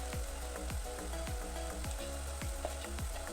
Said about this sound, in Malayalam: പഴം നല്ലോണം മൂത്ത് വരട്ടെ.